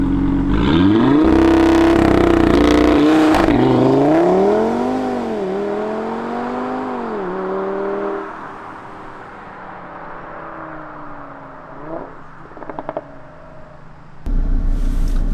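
An Audi RS3 engine revs hard and loud up close, climbing and falling through several strong pulls before settling into a lower, fading drone with a few short blips near the end and a final burst.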